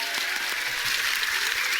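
Studio audience applause at a comedy panel show, a steady dense wash of clapping that holds evenly throughout without any voices on top.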